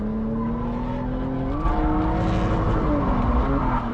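A Lexus IS300 of about 190 horsepower and 3,000 pounds drifts, its engine droning steadily and climbing in pitch as the tires squeal continuously, loud and close.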